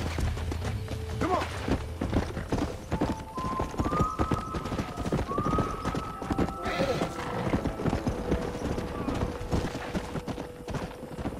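Horses in the video game Red Dead Redemption, with steady clip-clop hoofbeats throughout and several rising whinnies and neighs over the middle, set against a busy game soundscape.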